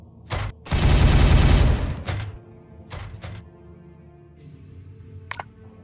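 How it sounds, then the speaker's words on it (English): Gunfire in Warhammer 40K Regicide: a short burst, then one long, loud volley, then several brief shots spaced apart that fade toward the end, with no speech. "Firing on target!"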